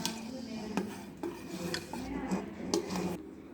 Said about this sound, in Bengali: এবার আমরা ডিমের কুসুমটাকে আলতো হাতে মিশিয়ে নেব